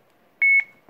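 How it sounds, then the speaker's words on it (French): An action camera used for airsoft gives a single short electronic beep, clean and steady, when its play button is pressed to start recording, in an otherwise quiet room. "si j'appuie sur le bouton play, hop, vous avez entendu le bip, la caméra filme"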